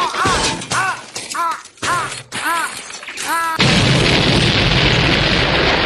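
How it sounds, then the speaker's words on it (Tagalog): In a SpongeBob SquarePants cartoon, dropped bait explodes: a series of squeaky, warbling tonal sounds gives way to a sudden loud, sustained burst of crashing noise that lasts to the end. "Bait na nga lang nalaglag, sumabog pa."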